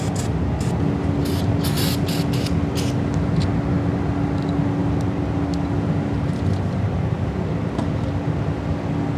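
A spray hose blasts down parts on a 1948 Willys CJ2A Jeep during a four-wheel disc brake conversion, a loud, continuous hiss over a steady low hum, with a few short spurts near the start.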